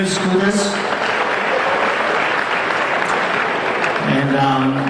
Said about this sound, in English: Big round of applause once again to Father Stephen Skouras